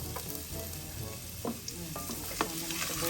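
Chopped ingredients and onion are tossed into hot oil for tinola and sizzle steadily, with a few soft stirring clatters and scrapes over a constant background hiss.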